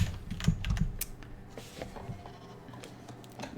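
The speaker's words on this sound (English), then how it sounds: "Mouse and keyboard it is, folks." Computer keyboard keys clicking at a home desk while setting up Dragon Age 2 for mouse and keyboard play, a dense cluster of close taps early on, then sparser, quieter clicks over low background hum.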